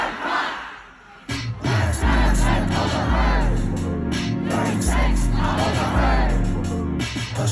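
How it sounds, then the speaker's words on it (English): Large concert crowd singing along loudly in unison to a song, a dense wall of voices with rhythmic chanting swells, close and sustained. "the crowd being able to sing all of the lyrics of his song"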